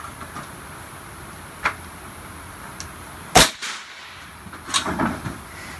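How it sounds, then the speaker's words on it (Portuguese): A 9mm M25 firearm fires its fourth round, a single sharp crack mid-clip followed by quieter echoing bangs and clatter in the last seconds, with a faint earlier pop against a quiet background. "Quarto tiro."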